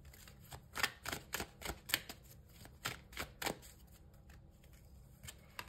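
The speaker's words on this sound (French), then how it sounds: "Je prends une dernière carte." Tarot cards handled and drawn from a deck, a string of crisp papery flicks and snaps in uneven rhythm, close and soft, thinning out toward the end with no talking.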